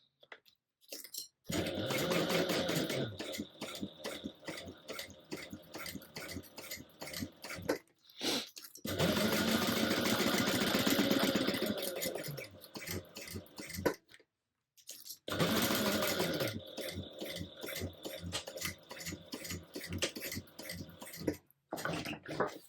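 A sewing machine back stitches over binding on a tote bag in several quiet runs of rapid stitching, separated by short pauses.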